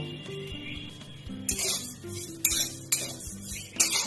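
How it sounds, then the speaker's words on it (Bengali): Broken wheat (dalia) dry-frying in a hot kadai, heard as a soft sizzle under repeated clinks and scrapes of a spoon against the metal pan, with several sharper stirring bursts close by. "কড়া গরম হয়ে গেছে, ডালিয়াটা একটু ভেজে নেব।"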